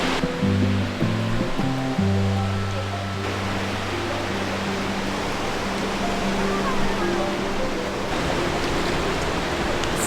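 Roaring waterfall at Nairn Falls in British Columbia, a loud, steady broadband rush that holds without a break throughout, with faint low music-like tones and voices near the start.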